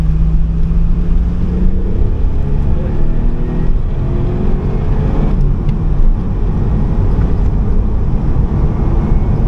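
A Mitsubishi 3000 GT twin turbo with 320 hp drives steadily from inside the cabin, its engine drone holding and rising through the gears over loud road rumble, with no talking.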